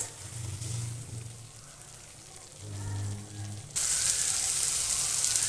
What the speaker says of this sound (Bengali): এর মধ্যে ভেজে রাখা পটলগুলো দিয়েও মশলাগুলোর সঙ্গে পটলগুলোকে ভালো করে কষিয়ে নেব